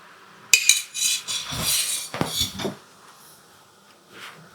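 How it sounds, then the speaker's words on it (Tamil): A metal kadai pan set down on a kitchen stove, a sharp metallic clank followed by a few clinks and scrapes as it settles, close by and with no talking. "வாங்க வடச்சட்டியை வச்சுக்கிடுவோம்."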